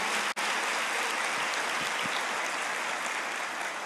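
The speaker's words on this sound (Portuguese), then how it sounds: "Você pode aplaudir ao Senhor por isso?" Steady, dense clapping from a church congregation praising the Lord continues at an even level throughout, with one brief dropout near the start.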